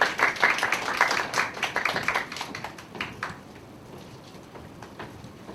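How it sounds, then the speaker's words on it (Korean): A university church congregation at a Sunday service claps in welcome, a brisk burst of many hands that peaks early, then thins and fades into scattered quieter claps near the end. "환영의 박수로 맞이해 주시겠습니다."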